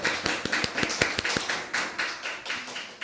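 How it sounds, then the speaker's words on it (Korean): A small congregation at a church New Year's Eve service claps briefly, a scattered run of sharp, uneven hand claps at close range that thins out toward the end. "박수 한번"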